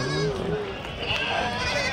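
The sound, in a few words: goats bleating at a market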